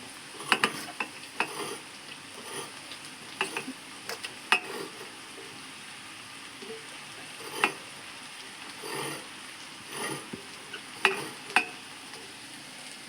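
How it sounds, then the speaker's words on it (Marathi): Leafy vegetable bhaji being stirred in a frying pan: scattered scraping and clinking spoon strokes over a faint, steady sizzle, fairly quiet and close. "त्याच्यानंतर आपण ढवळून घ्यायची भाजी घातल्याच्या नंतर"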